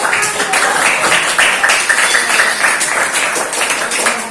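Hands clap together in a classroom, a dense, steady patter of many pairs of hands sustained throughout at close range, with no voices over it.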